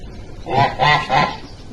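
Three short, hoarse honking calls in a row from nearby white muscovy ducks, over a faint background murmur.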